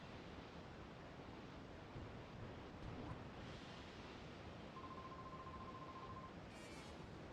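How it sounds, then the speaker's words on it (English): Ocean waves wash steadily in the Pokemon XD: Gale of Darkness video game, a faint, continuous broadband rush of surf that holds at one level throughout. "We got good waves going again today from the island that keeps others away."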